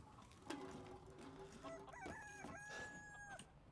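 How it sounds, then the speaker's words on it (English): Chickens and a rooster in the Resident Evil video game: a faint, distant crow with drawn-out tones followed by scattered clucks, heard quietly alone against a low background. "Where are those chickens?"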